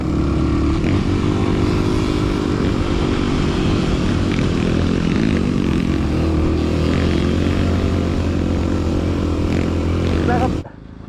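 A motorcycle engine drones loud and constant as the rider accelerates up a steep dirt slope on a rough mountain route, then cuts off abruptly at the end.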